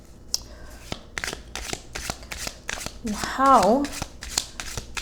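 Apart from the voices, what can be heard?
shuffling tarot cards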